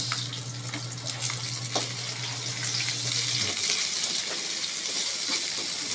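Chopped onions sizzle in hot oil while being sautéed for ginisang monggo, a Filipino mung bean stew, with a steady close frying hiss and a low hum that drops away midway.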